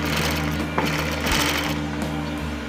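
A sewing machine stitches a leather men's bag, its motor whirring in a steady, close mechanical hum with a faint rhythmic clatter.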